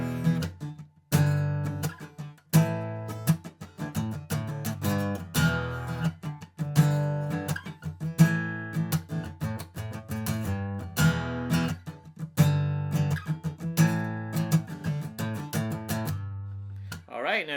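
An acoustic guitar plays a quick lick, with strummed chords and picked notes in a lively rhythm, bright and close, with pauses between the phrases.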